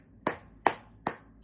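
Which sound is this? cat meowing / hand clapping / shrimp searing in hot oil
hand clapping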